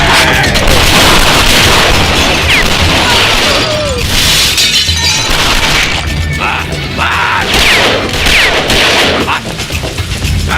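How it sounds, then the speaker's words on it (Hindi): Gunfire and explosive booms in a Hindi-dubbed action film scene, loud and dense throughout, with crashing, shattering impacts and a busy soundtrack layered beneath. "इतनी फायरिंग हो रही थी"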